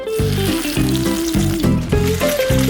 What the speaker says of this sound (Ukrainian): І так перевернемо нашу котлетку.